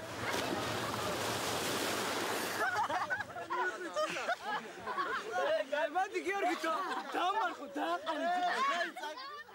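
Sea surf washing onto a beach with children bathing in the water for the first time: a broad wash of breaking waves at first, then excited children's voices and chatter over softer surf.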